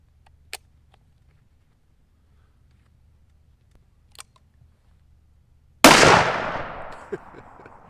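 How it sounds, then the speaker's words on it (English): A single loud, close pistol shot with a 6-inch or 12-inch barrel, fired at an outdoor range during chronograph testing. It breaks a quiet stretch holding faint clicks and then rings off in a decaying echo. "So I got one round left, just for the heck of it. I love shooting this gun."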